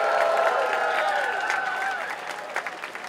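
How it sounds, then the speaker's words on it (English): A crowd at a Global Climate Strike rally in Seattle applauds with cheering voices mixed in, dense clapping that gradually thins and fades with a few scattered claps near the end. "Give yourselves a round of applause!"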